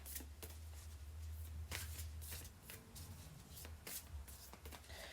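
A tarot card deck shuffled by hand nearby, with repeated crisp riffling bursts and soft rubbing sounds between them, heard on its own without talk.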